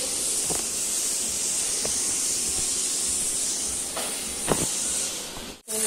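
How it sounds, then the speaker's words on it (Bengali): Rice boils in a pot, a steady close steamy hiss broken by a few soft pops and bubbling clicks, then a brief dropout near the end. No one speaks. "তো এখানে ভাত হচ্ছে, ভাত ফুটছে।"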